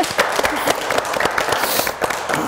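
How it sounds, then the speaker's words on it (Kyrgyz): A short burst of applause from a studio audience at a Kyrgyz family game show, dense and steady hand clapping throughout, fairly close and loud. "кол чабуулар сиздерге."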